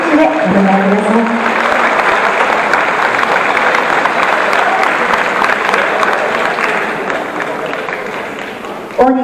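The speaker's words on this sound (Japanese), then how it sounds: "皆様どうぞ大きな拍手でお願いください。" Sustained audience applause at a professional standard ballroom dance competition, a dense, loud wash of clapping after a brief announcer voice at the start, continuing steadily for several seconds before fading slightly at the end.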